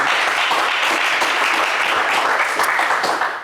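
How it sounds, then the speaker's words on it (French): Loud, dense applause from a French TV game show studio audience, steady throughout before tapering off at the end. "on vous applaudit bien fort"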